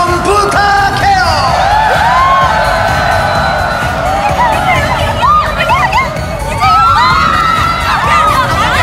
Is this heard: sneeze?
no